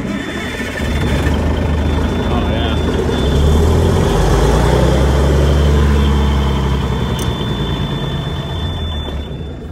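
An old Wrecker 5 ton truck engine runs loud and close, a heavy low rumble that swells in the middle and holds steady, with a brief voice over it.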